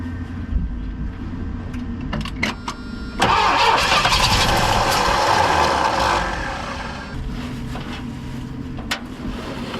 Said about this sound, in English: the engine does have a little bit of a lope to it. A little bit of uneven compression